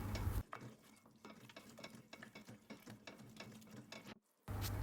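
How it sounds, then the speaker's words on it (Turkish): A spoon stirring flour as it roasts in a pan for flour halva gives a quiet, repeated scraping and rustling with a faint sizzle, then a brief silence before louder sound returns. "Rengini biraz daha koyultarak kavurmaya devam ediyorum."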